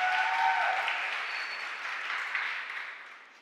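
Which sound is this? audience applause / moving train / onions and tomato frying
audience applause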